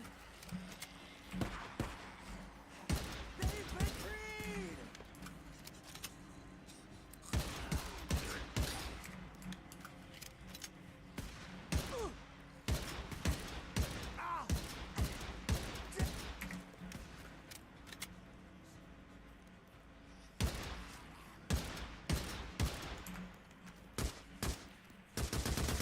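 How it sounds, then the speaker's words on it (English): Repeated bursts of rapid gunfire in the video game Days Gone, loud and close, broken by short pauses, with scattered single shots between volleys. "Yeah, I know my gunfire can attract more enemies"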